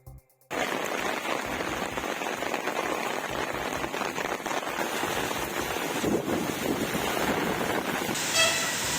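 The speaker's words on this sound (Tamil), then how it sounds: "மணலூர்பேட்டை, செட்டித்தாங்கல், சந்தப்பேட்டை உள்ளிட்ட பகுதிகளில் அதிகாலை நேரத்திலேயே கனமழை பெய்தது." Heavy early-morning rain pours in the Cuddalore area, a dense, steady hiss of drops hitting surfaces with some wind noise, starting abruptly and continuing loud and unbroken throughout.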